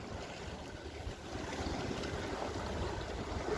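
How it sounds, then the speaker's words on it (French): A motorboat passing close by on open water, a low churning engine rumble that builds slightly over several seconds, mixed with wind buffeting and the wash of waves against the hull of a small sailboat. "je croise un autre bateau. Bon c'est un bateau moteur"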